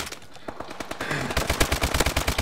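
Rapid bursts of automatic gunfire in the multiplayer shooter Call of Duty Advanced Warfare, sparse at first then building into a dense, loud, continuous rattle with no voices over it.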